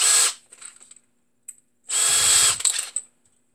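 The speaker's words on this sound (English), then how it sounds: "Alright, so let's drill a little bit into these." Close, loud bursts from a power drill boring into a recent Makita battery pack: a short whine, some rattling handling, then a longer, heavier drilling run that trails off in clicks and scrapes.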